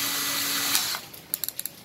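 A Hitachi DS12DM cordless drill runs with a steady high whine for under a second, then cuts off, followed by a few short sharp clicks close by.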